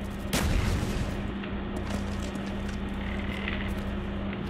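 A grenade goes off in a video game with a heavy, booming blast early on, followed by a rumbling roll-off and continuous low battle noise with a steady hum underneath, with no talking.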